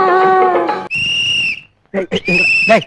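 A person whistles loudly and sharply, with a long steady blast, a brief pause, then a few short bursts and a final rising whistle, mixed with a tonal vocal sound at the start.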